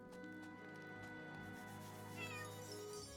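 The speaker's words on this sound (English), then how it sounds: "We always have to pet the cat." A cat meows in the video game Chained Echoes, a short, faint, drawn-out cry over steady background music.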